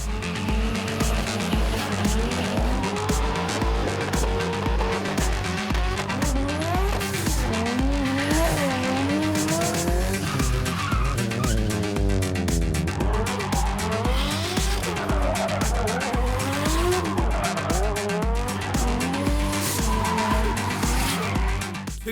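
Drift cars slide through a drifting exhibition at a jamboree event, tires squealing in long wavering howls over steady, loud engine roar that fills the whole stretch without pause.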